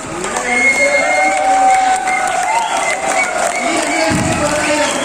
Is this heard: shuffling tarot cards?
no